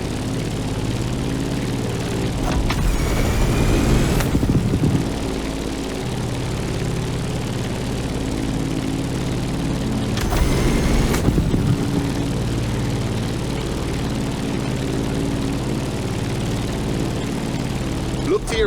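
A propeller airplane climbs in the video game The Crew Motorfest, its engine a constant low drone with steady hum, briefly swelling in two short bursts while a voice speaks over it.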